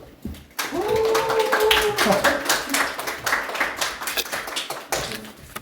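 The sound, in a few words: audience clapping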